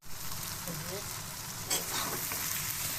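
Pumpkin and fish head fry in a pan, a soft, continuous sizzle heard close by with a brief stirring scrape midway, quiet and steady throughout.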